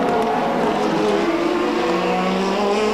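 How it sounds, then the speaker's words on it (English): A British-built Toleman Hart Formula 1 car with a four-cylinder engine races wheel-to-wheel in a Grand Prix, its loud, steady engine drone holding a high note throughout, close and continuous with no speech. "The British built and powered Toleman Hart with its four-cylinder engine against Niki Lauda"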